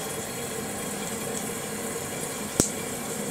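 Toilet tank refilling after a flush, fitted with a FluidMaster Perfect Fit 641 lever handle: steady close hiss and rush of water running into the tank, with one brief sharp knock near the end.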